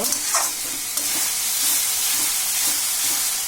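Onion and garlic frying in a pan for a Bangladeshi dried-fish (shutki) bhuna, giving a loud, steady close sizzle with faint stirring scrapes and no talk.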